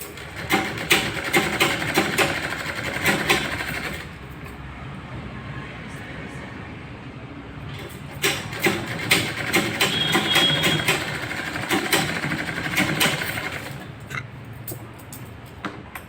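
A sewing machine stitches a lined blouse in two rapid, whirring runs separated by a quieter pause, with a person talking throughout.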